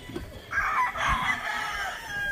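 A rooster crows once on a chicken farm among the brood pens, a single drawn-out call rising sharply and then trailing off, close and clear with faint background noise and no talking.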